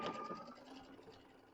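A sewing machine stitching a decorative stitch on a fabric apron band gives a quiet, fast mechanical whirr that gradually fades, heard close and alone.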